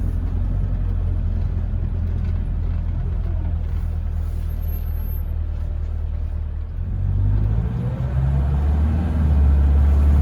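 An old 1974 BMW E12 520 engine rumbles steadily at low pitch, then revs up and accelerates, the deep roar swelling louder toward the end.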